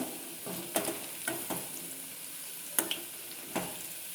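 Onions frying in a pan give a steady low sizzle, broken by several sharp scrapes and clacks as a utensil stirs them, heard alone without talk.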